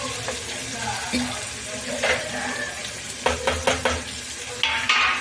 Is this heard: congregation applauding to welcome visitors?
no